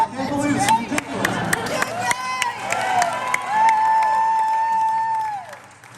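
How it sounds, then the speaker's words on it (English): A live radio show audience applauds and cheers, with crowd noise and scattered claps while voices call out and a whistle-like cheer rises over the clapping. "It's a funny thing when you get your biggest applause of the night for being nervous."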